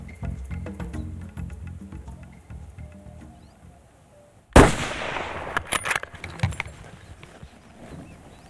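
A single sharp rifle shot rings out during a savanna buffalo hunt in Cameroon, a loud crack with a brief echoing tail, followed by a few fainter thumps and rustles.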